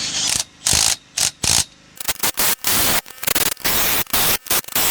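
A ratchet clicks rapidly while tightening nuts on a camper trailer axle, close and loud, in short bursts first and then quicker, denser runs of clicking with no talk.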